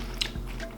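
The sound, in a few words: crunchy bite of crispy vegan grilled cheese sandwich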